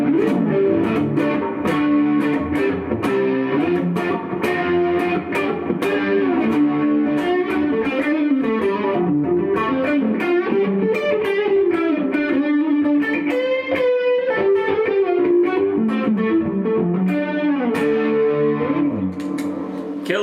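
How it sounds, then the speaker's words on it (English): Electric guitar through medium reverb, short delay and chorus pedals, continuous chord strumming and melodic lines with a shimmering, spacious wash, steady and loud throughout with no voices. "right now I've got the medium reverb, short delay, chorus."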